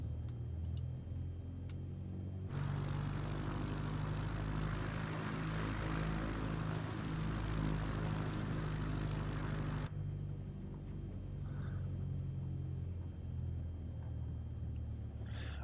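A propeller aircraft engine in a flight simulator game roars up during takeoff, a loud steady broadband drone with rumbling low tones that cuts in abruptly, holds for several seconds, then drops back to a quieter hum.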